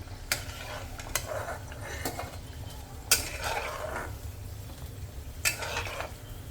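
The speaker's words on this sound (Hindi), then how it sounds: "ये देखिए इन प्लेट में निकाल रही हूँ।" Fried chotha snacks are lifted out of hot oil onto a plate, with a few sharp clinks of a utensil over a soft, continuous frying hiss.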